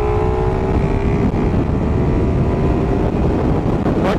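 Carbureted Suzuki Raider 150 motorcycle pulling hard in fourth gear, a loud, close, continuous engine roar with no voices.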